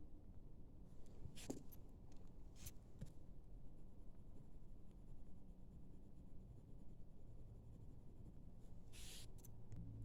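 Pen or marker writing out a fraction equation on a board during a fourth-grade maths lesson, soft scratchy strokes in short bursts against quiet room tone, no talking.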